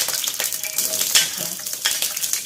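Chopped garlic frying in hot oil in a pan gives a steady crackling sizzle with light clinks of a utensil stirring, heard up close without talk.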